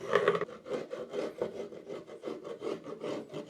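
An old chisel scraping excess dried glue off a glued-up pallet wood panel: steady rasping strokes in an even rhythm, close and fairly loud, with no talking.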